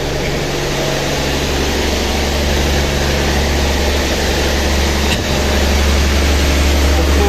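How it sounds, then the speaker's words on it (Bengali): Engine room of a passenger launch on the Barguna route, with its engines running as a loud, steady low rumble and drone that holds unbroken throughout, with no talk over it. "engine room"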